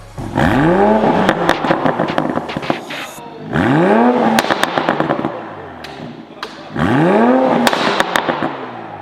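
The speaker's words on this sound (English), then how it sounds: "Here's a clip with a car with just the catback in sport mode." Three loud revs of a 2020 Toyota Supra with an aftermarket catback exhaust in sport mode, each climbing and falling, followed by rapid popping and crackling on the overrun, recorded close.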